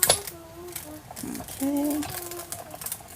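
A die cutting machine runs a die through material, giving a mechanical ratcheting whir with a steady geared hum and scattered clicks that swell midway. A voice speaks briefly near the start.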